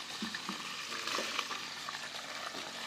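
Catfish pieces fry in a pan of oil with a continuous close crackle and sizzle, dotted with sharp popping spatters.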